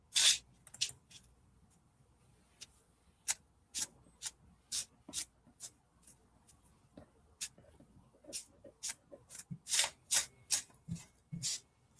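Tarot cards are shuffled in a quiet room, giving soft, crisp riffles and rubbing flicks that come in irregular bursts over a faint background hush, close and gentle, with no talking.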